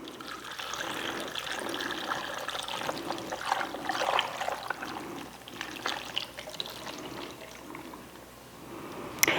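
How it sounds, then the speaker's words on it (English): Brine poured into a jar of cucumbers for pickling, a steady trickling and splashing of liquid that runs continuously and fairly close, ending with a louder knock at the end. "And then I want to pour this over the pickles."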